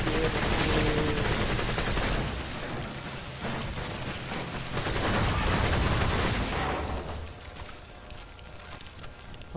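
The Dera rifle in the game Warframe fires in loud rapid bursts, with steady trigger-held volleys that fade toward the end.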